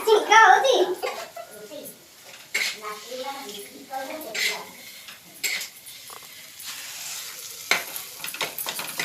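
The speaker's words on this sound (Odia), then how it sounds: "ଛୁଙ୍କ ହଉଛି" Spices being tempered in hot oil, a soft sizzle and frying hiss with stirring and utensil clinks on the pan, while voices, including a child's, talk over it in a home kitchen.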